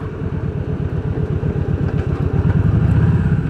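A motorcycle rides along a rural rustic road, its engine giving a steady, pulsing low drone close by and rising slightly toward the end.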